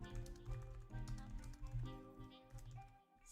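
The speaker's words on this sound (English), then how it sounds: "So let me type it in." Someone types on a spare computer keyboard, the light quick key taps faint and close beneath steady background music.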